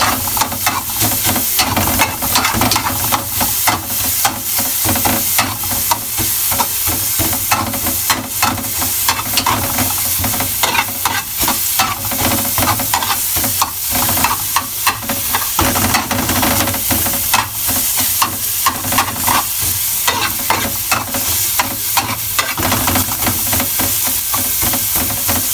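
Garlic sautéing in a hot pan while preparing ginataang langka, a Filipino jackfruit and coconut milk dish: a steady, loud sizzle and hiss runs throughout with frequent sharp crackles and pops.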